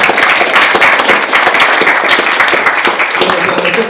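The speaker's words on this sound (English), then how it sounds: "Give her a round of applause, people." Audience applause at a live political show, a dense burst of clapping from a crowd, loud and close throughout, with a voice talking over it.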